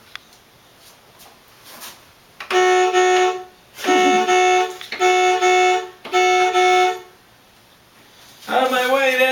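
A toy ice cream truck's horn sounds as a bright electronic toot, honking in four sustained blasts with short gaps. A final blast comes after a pause, and no voices are heard.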